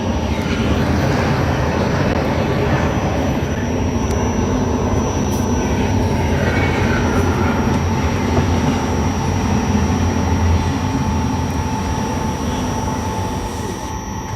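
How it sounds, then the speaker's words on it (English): A double-stacked intermodal freight train rolls past close by, a loud, continuous rumble and clatter of wheels that holds steady for over fourteen seconds, with no voices. "All right, we got double stacked intermodal."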